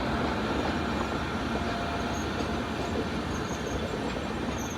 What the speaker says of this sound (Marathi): कोकण रेल्वे आलेली आहे, कुठेतरी ट्रेन आहे,